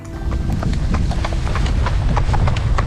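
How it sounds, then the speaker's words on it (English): Horse hooves clip-clop steadily in a quick, even rhythm during an endurance ride, loud and close with constant background rumble and no speech. "endurance riding, where horses race between 25 and 100 miles over the course of several hours"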